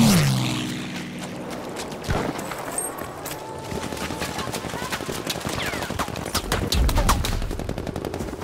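Gunfire in the Battlefield V video game: rapid machine-gun rattles and scattered shots crackle almost continuously, loud and close, with a heavy thump early on.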